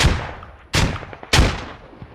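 Grenades explode in the video game Squad, three sharp, loud blasts spaced roughly half a second apart, each trailing off in a rumbling decay, with no talk.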